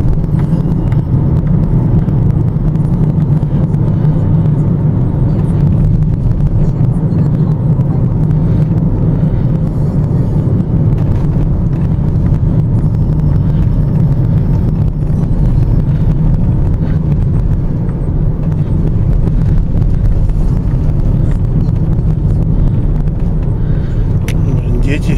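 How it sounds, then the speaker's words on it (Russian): Road workers' vehicles roll past in a village, a steady loud engine rumble with wind buffeting the microphone, constant throughout with no clear break. "Вон еще дорожники едут."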